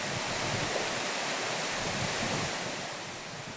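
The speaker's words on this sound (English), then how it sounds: "The girls enjoy the waterfall." A mountain waterfall in Bolivia roars as a dense, steady rush of falling water with wind-like hiss, loud and continuous before easing slightly toward the end, with no talking.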